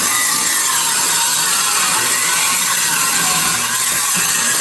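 A saw cuts through the wooden floor of a mobile home in one continuous, harsh rasping drone, loud and close, with no pauses and no talk.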